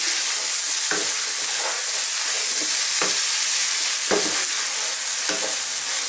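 Beef Stroganoff on the stove: tender beef returned to a pan with a little cooked flour, sizzling steadily over low heat while a spoon stirs it, leaving several distinct scraping knocks over the continuous fry.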